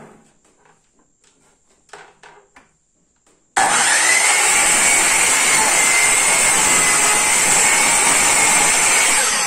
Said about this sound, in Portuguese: Vamos executar um corte aqui, tem aqui uma madeira, uma tábua, né?